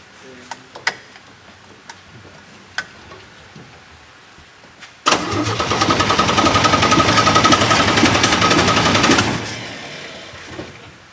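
A long-idle 1949 Chevrolet engine cranks over quickly on the starter after a few scattered clicks. The loud, rapid, rhythmic chugging runs for about four seconds, then stops without the engine catching.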